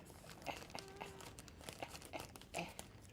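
Someone opens a mailed package by hand, with quiet crinkling and crumpling of packaging and a few sharper tearing and crunching bits scattered through it, close up.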